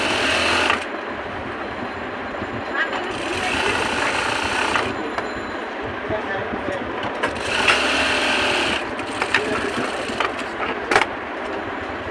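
Sewing machine stitching the bottom hem of a salwar, running in several sustained bursts of rapid needle clatter separated by short pauses and a few clicks and thumps of handling.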